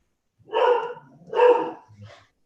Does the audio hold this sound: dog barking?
yes